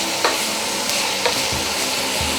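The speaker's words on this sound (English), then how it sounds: "I'm stirring all those lovely flavors together, and I'm just gonna let the onion cook slowly with the chipotle and the chorizo oil" Chorizo, onion and chipotle sizzle steadily in a pan while being stirred, with a few scraping utensil strokes over the constant frying hiss.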